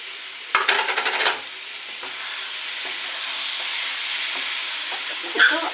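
Raw prawns tip into a frying pan of ridge gourd curry, setting off a short clatter of stirring and scraping, then settling into a steady, close sizzle with a few faint taps near the end.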